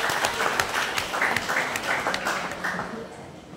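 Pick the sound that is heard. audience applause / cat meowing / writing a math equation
audience applause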